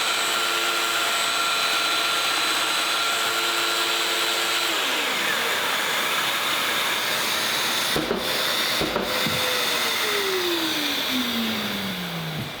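A Festool domino joiner (DF500 or DF700 type) runs with a steady, close motor hum and a rough cutting rasp as it plunges into wood for a mortise, with the pitch winding down at the end.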